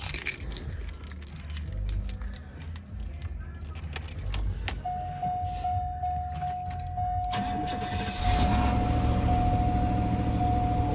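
A 1992 Cadillac Eldorado cranks and fires up; keys jingle first, then the engine catches and settles into a steady idle, accompanied by a sustained tone, close and fairly loud.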